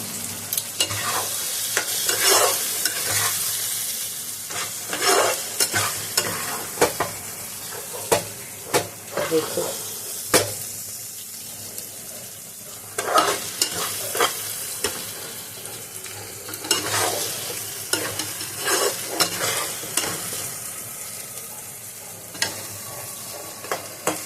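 Malabar spinach leaves fry with fish oil and radhuni spice paste in an old-style home dish, a continuous close sizzle broken by repeated scraping and clattering strokes of a spatula stirring the pan.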